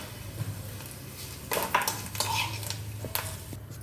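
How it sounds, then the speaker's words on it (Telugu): Curry leaves and other seasonings fried in oil for a tempering are scraped from a pan into a bowl, with several sharp metal clinks of utensil against cookware close by over a low steady background hum. "ఇప్పుడు పోపు వేగింది కదా, చక్కగా గిన్నెలోకి తీసేసుకుంటున్నానండి"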